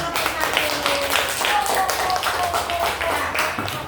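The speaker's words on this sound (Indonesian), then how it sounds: "tepuk tangan untuk nomor 1." A group claps for performer number 1, with a brisk, uneven patter of hand claps at close range, and a voice speaking over the clapping.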